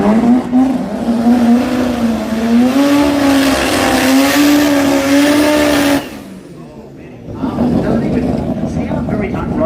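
A Mazda RX3 street car driven hard at a racing jamboree, its engine droning steadily at high revs with a rising pitch, then cutting out briefly before the engine noise picks up again.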